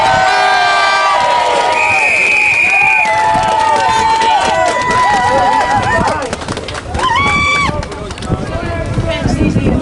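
A crowd at an anti-bedroom-tax demonstration cheers and shouts loudly and continuously, with whistles, whoops and raised voices layered over one another at close range.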